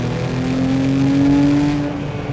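A Porsche 911 997.1 GT3 engine revs at around 6,000 RPM in third gear, a loud, steady, rising mechanical howl heard from inside the car with no talking.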